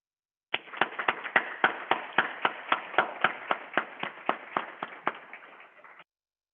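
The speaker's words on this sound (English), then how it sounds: "please give yourself a round of applause" A small group clapping at a graduation ceremony, a quick run of about twenty sharp, evenly spaced claps close by, starting abruptly and stopping cleanly, with no talk.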